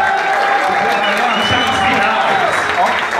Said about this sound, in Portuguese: Uma salva de palmas pro finalista,